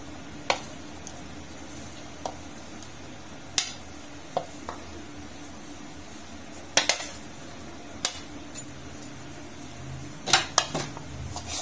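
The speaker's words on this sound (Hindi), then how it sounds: "तो बकाया जो वेजिटेबल हमने काटी है वो ऐड कर देंगे।" Chopped vegetables for aloo pulao go into a cooking pot, heard as scattered metallic clinks and spoon taps against the pot over a soft, steady background hiss, with a couple of louder clattering bursts near the middle and end.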